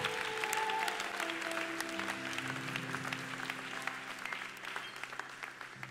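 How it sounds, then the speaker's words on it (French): A church congregation claps together, a dense wave of applause that starts strong and slowly fades over six seconds, with sustained tones sounding beneath it. "Acclamons, acclamons,"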